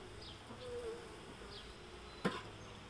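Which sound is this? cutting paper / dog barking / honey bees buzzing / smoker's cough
honey bees buzzing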